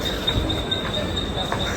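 A Mumbai local train arrives at a station with a continuous rumble of wheels and a thin high-pitched squeal running steadily underneath, close by and even in loudness.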